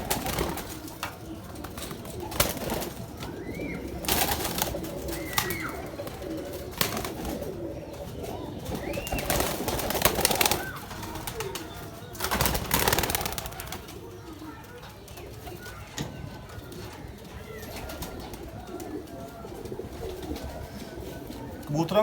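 Breeding pigeons coo in repeated soft, throaty bursts nearby, with occasional wing flutters, over a steady background murmur.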